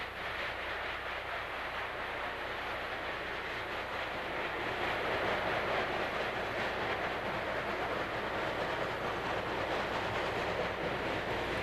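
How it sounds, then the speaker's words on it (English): Norfolk and Western steam locomotive No. 133, filmed in 1957, gathers speed with a continuous, even rolling rumble of the train that holds at moderate loudness throughout. "Number 133 gathers speed as it heads south for Portsmouth."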